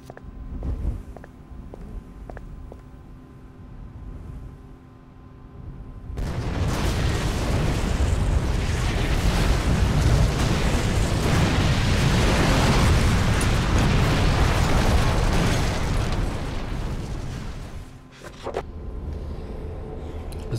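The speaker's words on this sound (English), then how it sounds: "that was one big explosion in the refinery" A large refinery explosion in the video game Call of Cthulhu: Dark Corners of the Earth erupts as a sudden loud roar of blast and rumble, sustained for about ten seconds before cutting back to quieter ambience.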